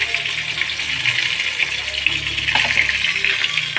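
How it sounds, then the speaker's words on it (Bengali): Water pours steadily into a pan of fried spice paste while a Bengali fish curry is cooked, giving a continuous close gushing splash that lasts the whole moment, with faint kitchen clatter beneath. "জলটাকে ঢেলে দেবো মশলাটা এই ভাজা অবস্থাতেই ঢেলে দেবো"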